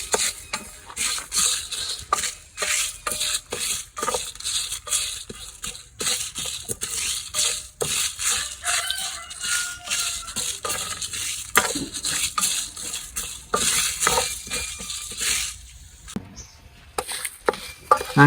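Chillies, coriander seeds and cumin dry-roasting in a pan, with a steady run of dry scraping and stirring clatter and light metallic utensil taps close by, continuing throughout with no talk.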